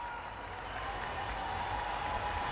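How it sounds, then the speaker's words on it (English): Capacity crowd at a track cycling World Cup race in Cali, Colombia, applauding and cheering in a steady wash of clapping that holds loud throughout. "being urged on by the Cali crowd"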